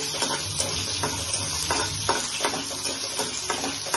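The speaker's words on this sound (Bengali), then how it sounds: "এভাবে করে গাজরগুলোকে ফ্রাই করে নিচ্ছি" Sliced carrots frying in a pan, a continuous bright sizzle of hot oil broken by regular scraping and stirring strokes from a utensil, close up with no voices.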